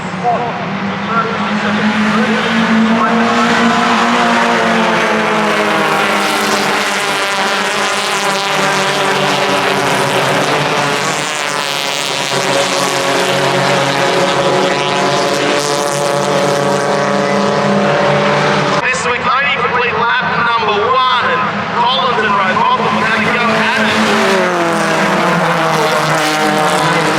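A 1969 Chevrolet Camaro race car engine roars from inside the cockpit during a race, a loud, sustained howl rising and falling through gear changes for nearly half a minute with a sharp shift near the end.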